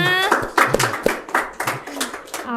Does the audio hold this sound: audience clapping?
yes